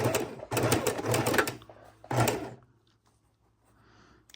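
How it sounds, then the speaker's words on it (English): A sewing machine stitches quilt fabric in two short bursts, the first longer and the second brief, close by, then quiet. "We're going to sew the other one right on this line."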